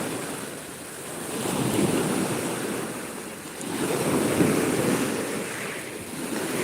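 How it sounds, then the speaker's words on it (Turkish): Waves surge and break on the shore in two long swells, with rushing surf and wind noise on the microphone, no voices. "arkadaşlar bayağı bir yükseldi dalga."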